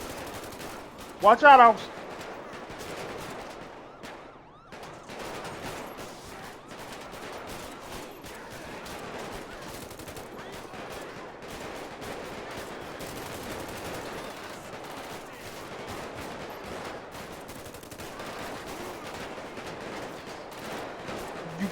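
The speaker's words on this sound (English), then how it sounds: "You got shots fired." Gunfire in a GTA V LSPDFR police shootout during a night warrant operation in Sandy Shores, with bursts of shots and a sharp loud burst near the start, continuing under radio chatter and officers' talk.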